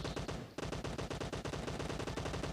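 Automatic gunfire in the video game PUBG rattles out in rapid, evenly spaced bursts. It breaks briefly early on, then keeps firing loud and sustained to the end.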